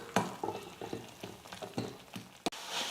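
A coconut and dosa batter mixture cooks in a pan with a soft sizzle, while a spatula scrapes it in repeated close stirring strokes and one sharp knock near the end.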